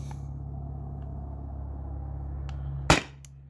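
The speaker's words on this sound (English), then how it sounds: "This is the Umarex cartridge. I'll shoot 5 rounds and then give it like a 30-second break." A CO2 airgun fires on an Umarex CO2 cartridge with one sharp, close crack near the end over a steady low background hum.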